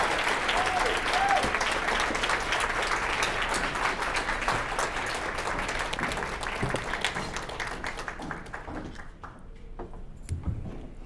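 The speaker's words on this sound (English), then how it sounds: "could we please give a warm round of applause to our keynote speaker, Kathy Lee." A room of women at a summit gives a keynote speaker warm applause, dense sustained clapping that thins into scattered claps toward the end.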